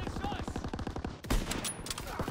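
Rapid machine-gun bursts crackle in a WWII-era video game battle, a dense, continuous rattle of close gunfire.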